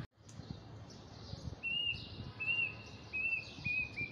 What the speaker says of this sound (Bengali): দেখছো কত সুন্দর পাখি ডাকতেছে